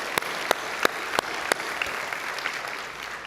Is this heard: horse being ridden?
no